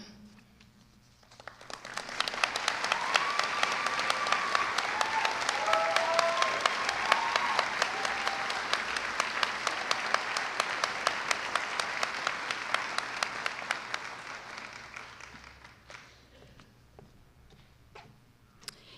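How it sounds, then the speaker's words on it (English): A large crowd applauds at a university commencement ceremony, dense sustained clapping that swells quickly, holds for about twelve seconds with some cheering, then thins to a few scattered claps. "Let's have one more round of applause for all three of them."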